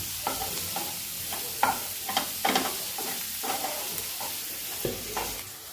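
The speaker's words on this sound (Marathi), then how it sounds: "टमाटे व्यवस्थित शिजवून द्यायचे आहेत थोडे" Tomatoes and spices cooking in a pan with salt, a steady sizzle broken by repeated scraping stirs of a spoon, close and fairly loud, with no talking.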